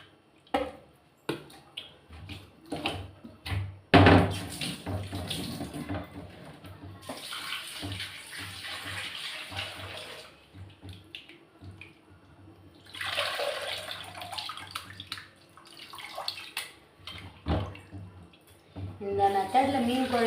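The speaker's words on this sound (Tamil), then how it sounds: "புளி கரைச்சி ஊற்றிக்கிறேன்." Dissolved tamarind water poured into fish curry, several splashing, gurgling pours in bursts between quiet gaps, with a voice talking over parts of it.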